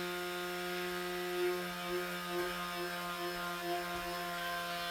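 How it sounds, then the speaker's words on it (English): A stick blender mixing soap whirs with a constant hum and harmonic whine, its pitch wavering slightly in a few brief pulses, no voices. "we get a stick blender,"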